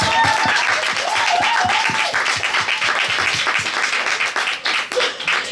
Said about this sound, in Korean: 박수 한 번만 해주세요